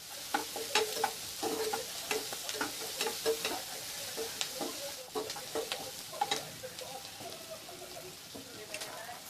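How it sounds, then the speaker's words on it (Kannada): Green chillies, onion and curry leaves frying in a pan, a steady sizzle with frequent scraping stirs and small pops continuing throughout, fairly close, with no talking. "ಇದು ಚೆನ್ನಾಗಿ ಫ್ರೈ ಆಗಬೇಕು, ಗೋಲ್ಡನ್ ಬ್ರೌನ್ ಬರೋ ಗಂಟ ಫ್ರೈ ಮಾಡಬೇಕು"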